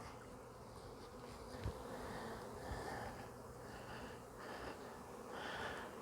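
Honeybees swarm and buzz in a dense, continuous drone around a re-queened, combined hive, a steady insect hum at moderate distance with no talking.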